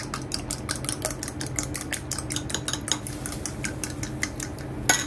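Eggs being beaten for a white bitter melon stir fry, a fork or utensil clicking rapidly and rhythmically against a bowl, close and steady with a slightly louder knock at the end.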